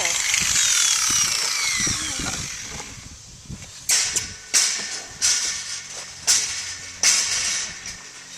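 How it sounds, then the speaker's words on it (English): A power grinder trims a horse's hoof, taking excess length off the front of the foot. Several short, sharp grinding bursts come up close, one after another, after a stretch of steadier machine noise. "second time he's ever had a power tool on his foot"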